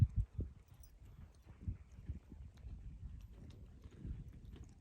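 Soft, irregular clopping of horse hooves on the ground during groundwork training, low and fairly quiet, with a few shuffling steps close by.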